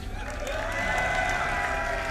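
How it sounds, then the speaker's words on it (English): A crowd at a gaming showmatch cheers and whoops in a steady, loud roar that swells slightly and holds, dense and reverberant, with no clear single voice standing out. "this better be the biggest cheer we've heard all day"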